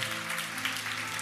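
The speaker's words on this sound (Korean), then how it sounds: "우리 하나님께 감사의 박수를 드리겠습니다" Church congregation giving a round of applause during a Sunday service: steady, dense clapping from many hands at moderate distance, even in level throughout.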